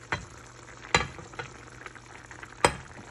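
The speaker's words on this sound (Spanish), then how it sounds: "revolver muy bien y agregar los huevos uno por uno" Eggs are dropped one at a time into simmering sauce in a frying pan, giving a few distinct soft splats and knocks over a low, steady bubbling sizzle.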